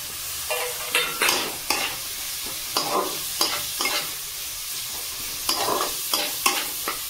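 Chicken curry with chopped tomato frying in a pan is stirred with a spoon, giving a steady run of sharp scraping strokes over a soft sizzle.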